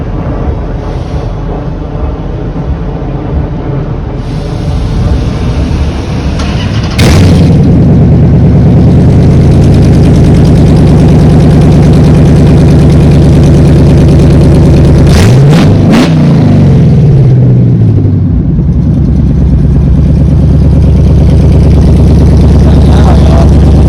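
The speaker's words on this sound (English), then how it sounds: "I'm gonna let y'all hear how it sounds. I got the headers and no catch right now" An engine-swapped car with headers and no catalytic converters rumbles loudly at a steady idle, with a sharp startup surge around seven seconds and a brief rise in revs near the fifteen-second mark.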